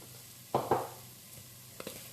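Turmeric and cumin sautéing in a pan for coconut curry chickpeas, a faint steady sizzle with a couple of soft stirring scrapes, quiet and close with no voices.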